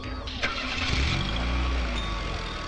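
A car engine turns over and catches, then settles into a low, steady rumble as the vehicle gets ready to pull away. Brief voices can be heard around the start.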